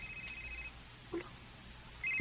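A telephone rings with an incoming call, giving a short, fairly faint electronic ring near the start and another near the end, with quiet room noise between.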